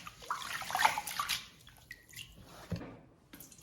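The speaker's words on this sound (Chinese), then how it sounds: "用清水给它清洗干净" Raw rice grains being rinsed clean in water for homemade rice cakes: a few short sloshes and splashes, busiest at the start, then scattered drips and trickles after a brief lull.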